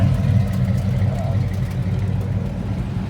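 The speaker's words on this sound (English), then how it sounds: "It sounds good. It's got just a little tiny cam." A 2000 Chevy S10 pickup with a swapped LT1 V8 and a small cam idles steadily, a low rumbling burble close by with a slightly uneven lope and no talk.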